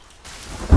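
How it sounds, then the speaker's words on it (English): Thunder rumbles in over rain inside the survival game The Forest, starting quiet and then swelling into a loud, deep low crack near the end of the short burst. "Why is there thunder inside?"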